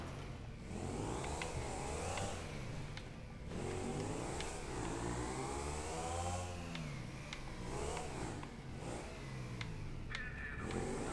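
A motorbike engine in the game Transport Tycoon revs up and down repeatedly, each rising whine climbing and falling in pitch over steady mid-range engine drone, with brief clicks between the revs.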